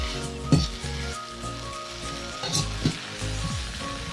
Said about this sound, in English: What you're hearing is oil, not water.